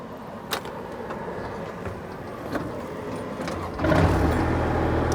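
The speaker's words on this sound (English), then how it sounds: "If I come over here and start the machine up" A Kubota zero-turn mower's engine starting up inside a Curtis cab: a low background rumble with light knocks, then a sudden louder engine catch and steady idle near the end.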